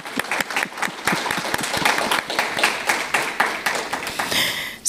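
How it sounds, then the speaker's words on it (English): A room of attendees at an economic development meeting in Florida claps steadily, a dense round of applause that carries on without talk over it. "it's appropriate to give a round of applause at this time"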